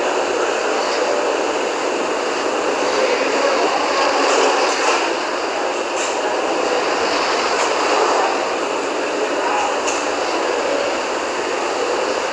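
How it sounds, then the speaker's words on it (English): All nine Merlin 1D engines of a Falcon 9 rocket at full power during a GPS III launch, a steady, dense, broadband roar that holds evenly loud and distant-sounding throughout. "The 9 Merlin 1D engine is going back to full power"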